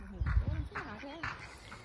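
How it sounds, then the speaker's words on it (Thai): Ducks being fed quack a few times in short nasal bursts, close but quiet, mixed with people's voices nearby. "นี่คือเป็ดเป็ดนี่เป็ด"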